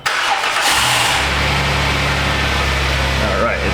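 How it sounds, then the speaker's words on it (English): A Dodge Caravan minivan engine cranks and catches, then settles into a steady, loud mid-pitched idle close by, with no talking over it. "Let me go ahead and fire this car up."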